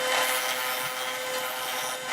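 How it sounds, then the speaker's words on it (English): A round wooden table top is sanded down to a marked line with a power sander, producing a steady, close, loud whirring grind that holds constant without breaks. "And I'm just sanding it down to the line."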